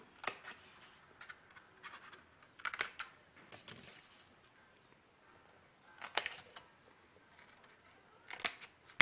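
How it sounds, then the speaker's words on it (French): Scissors snipping the corners of a paper agenda page, a few close, crisp cuts separated by quiet pauses and faint paper rustling, with no talking. "Alors, je coupe mes angles."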